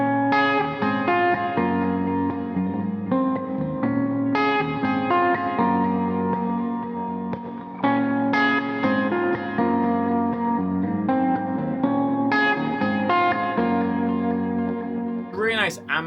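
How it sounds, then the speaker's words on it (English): Electric guitar chords through a Kemper amp profiled on an AC30 setting, with an EQ pedal, delay and the bridge pickup's tone rolled fully off, ring out in a steady strummed progression with ambient echo trails, loud and alone. "I've got my Kemper set up on like a AC30 setting. I've got a little EQ pedal and a delay"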